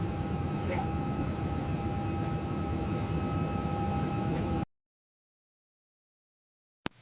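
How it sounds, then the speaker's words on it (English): Steady broadband roar of a large Emirates airliner's engines, the world's biggest passenger aircraft, heard as a continuous hum with faint tonal whine, then cutting abruptly to silence before a brief burst returns. "Emirates aircraft beginning first commercial journey."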